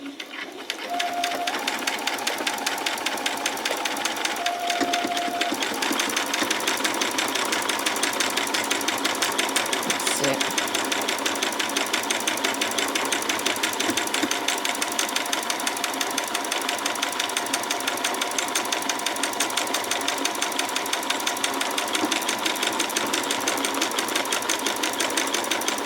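A sewing machine stitches a buttonhole on a spring apron, its motor whirring in a steady, close, continuous run with brief pitch shifts near the start and no talk over it.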